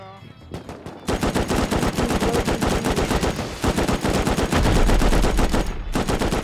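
Gunfire in the Rust survival video game, loud rapid automatic bursts of close shots firing almost continuously with brief pauses.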